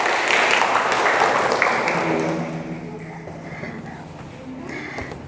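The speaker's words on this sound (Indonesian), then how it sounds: "tepuk tangan doang untuk semua" Brief clapping from a class during a teaching session, loud for the first two seconds and then dying away into quieter room sound with faint voices.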